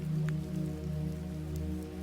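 Soft rain falls as a faint, steady patter, quiet and close, over a low sustained tonal drone.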